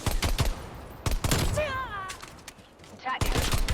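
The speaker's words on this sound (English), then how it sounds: "every time you pull in the trigger, it shoots a 3-round burst instead of just one shot" Video game gunfire rings out in loud bursts, with several clusters of rapid shots separated by pauses and a brief whistling tone in the middle.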